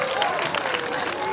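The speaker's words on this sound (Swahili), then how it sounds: "Wapi makofi tupigie makofi." Audience applause at a gathering, a brief burst of many hands clapping, moderately loud and continuous.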